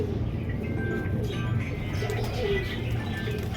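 Pigeons in a loft coo softly throughout, low rolling calls under a steady hum of background noise, with a few faint chirps and no clear talk.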